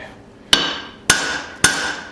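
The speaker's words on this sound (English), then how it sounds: "hammering these little cheeks in" A hammer strikes hot steel while a dog nose hammer is being forged, three sharp ringing blows about half a second apart, each with a metallic ring that decays between hits.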